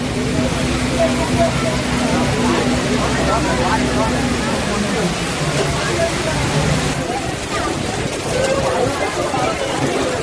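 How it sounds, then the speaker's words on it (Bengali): Heavy rain pounds down around a passenger launch at Belur Math, a constant loud hiss with a low engine drone underneath and muffled voices mixed in. "প্রচণ্ড বৃষ্টি কি করে নামবো সেটাই ভাবছি"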